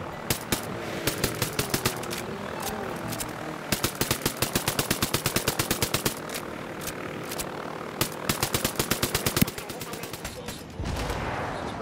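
Sniper rifle fire in the video game Ghost Recon Wildlands: a long run of sharp, rapid shots, fairly loud and close, with a few short pauses and a steady game-engine background beneath.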